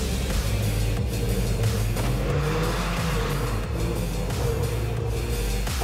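A Mercedes car drives test laps, its engine roaring loud and steady from inside the cabin with continuous revving and road noise.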